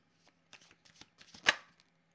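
A deck of tarot cards being shuffled during a card reading, a quick run of soft riffling flicks building to one sharp louder burst near the end, close and alone with no talk.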